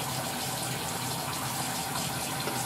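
Tap water runs steadily while makeup brushes are rinsed, a continuous full splashing gush with no pauses.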